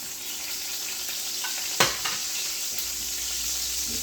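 Salmon sizzles steadily in a hot pan for Tuscan butter salmon, a constant close frying hiss with a brief louder crackle partway through.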